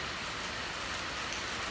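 Steady rain pours at night over the Hậu River during a net-trapping outing, a dense even hiss with no talk.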